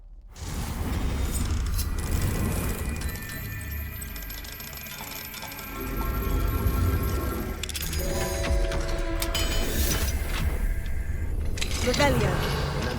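Alohomora, the unlocking spell in Hogwarts Legacy, works a lock with metallic clicks, jangles and tumbling mechanism sounds over a steady game backdrop, with a voice talking over it.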